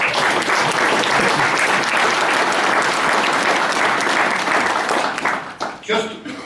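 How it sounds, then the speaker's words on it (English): Audience at a tourism event in County Mayo gives a big round of applause, loud, dense and sustained for about five seconds before thinning into a few last claps. "I'd like to give Peter and his team a big round of applause"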